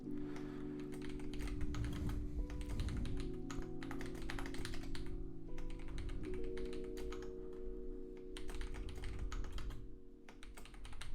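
Fingers tap steadily on a computer keyboard at close range, keys clicking in quick irregular bursts with brief pauses, over a faint sustained hum.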